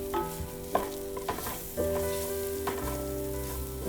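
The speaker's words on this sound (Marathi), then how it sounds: "चांगलं जरा तेलामध्ये फ्राय करून घ्यायचा आपला हा मसाला." Spice masala of chili powder and turmeric frying in oil for a spicy crab curry, with soft sizzling and a few clinks of stirring under steady tonal background music.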